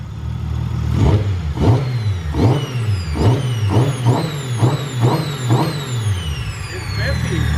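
A Nissan RB26 engine converted to a single turbo revs repeatedly on its first start, sharp rising blips with turbo whine over a rough idle, close and loud, with people talking over it.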